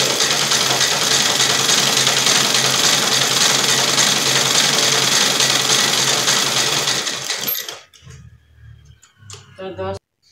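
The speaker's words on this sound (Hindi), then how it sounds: "डबल सिलाई लगा रही हूँ ना ताकि हटे नहीं, एक बार सिलाई मार दी है डबल सिलाई" A sewing machine double-stitching a yoga mat bag made from old curtain fabric runs in a loud, steady, rapid whir for about seven seconds, then stops, leaving a few faint clicks and handling noises.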